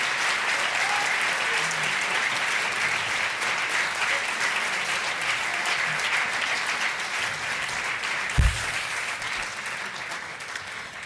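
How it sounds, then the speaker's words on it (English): A large audience applauds steadily throughout, a dense sustained clapping with one brief thump near the end. "let's give them one more huge round of applause"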